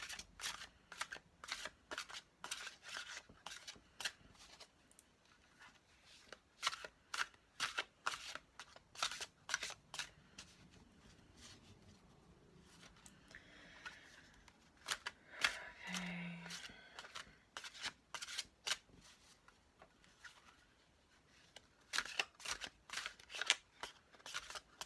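Large, oversized deck of playing cards being shuffled by hand: rapid riffling bursts and soft flutters come in clusters, close and fairly quiet, with no talk.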